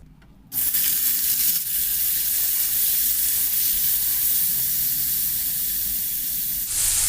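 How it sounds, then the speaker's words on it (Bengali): Paneer frying in mustard oil in a kadai gives a steady, close, loud hiss and sizzle that starts abruptly and holds evenly for about six seconds, with no one speaking. "আমি এদিকে পনিরটাকে হালকা ফ্রাই করে নেব কড়াতে সর্ষের তেল কিছুটা পরিমাণ ছিল"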